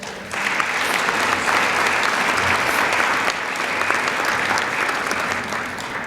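Sustained applause from a large crowd at a Hall of Fame dinner, steady and loud throughout, with no pauses.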